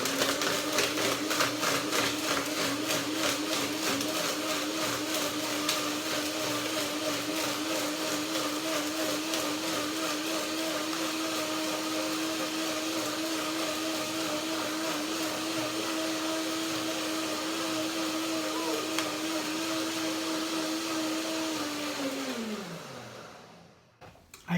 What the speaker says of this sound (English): I interrupt the blending, it needs a little bit more